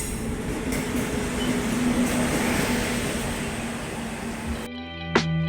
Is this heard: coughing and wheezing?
no